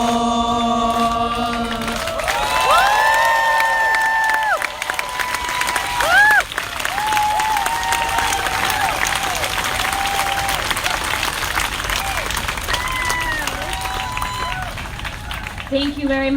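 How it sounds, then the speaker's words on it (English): At an outdoor rally, a crowd applauds and cheers for singers for a long stretch, the clapping dense and continuous under a distant voice, with scattered whistles and shouts mixed in. "Can we just give another round of applause for the amazing singers?"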